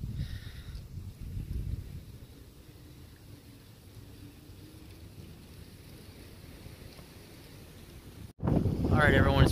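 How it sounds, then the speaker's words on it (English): Gusty wind rumbles and buffets the microphone outdoors, heavier at first and then easing into a steady low roar before a voice starts at the end. "it's pretty windy out here."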